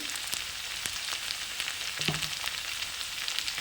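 Spices and potatoes frying in a pan for egg curry, a steady close hiss and sizzle with a few soft clinks of stirring.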